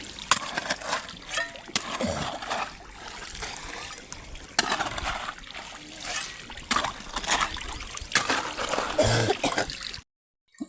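Irrigation water splashes and trickles steadily into a chilli field, running close by for about ten seconds with intermittent louder splatters, while people talk over it.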